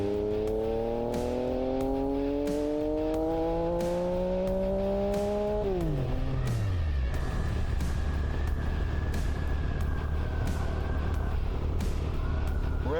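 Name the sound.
Yamaha MT-09 motorcycle revving and coasting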